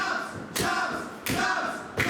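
Loud open-hand chops strike a wrestler's chest at a Limitless Wrestling match, three sharp slaps about three-quarters of a second apart, ringing out over a steady crowd murmur.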